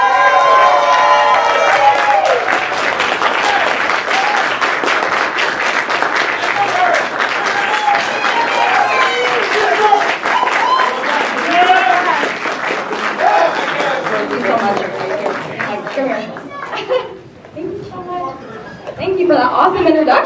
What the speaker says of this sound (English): if you can stand up and give a round of applause to the award-winning actress